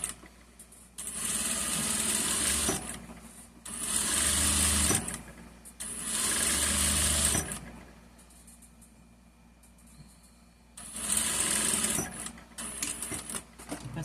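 Sewing machine stitching seams on baby fabric, running in four separate loud bursts of a few seconds each with quiet pauses between, close to the microphone and with no talking.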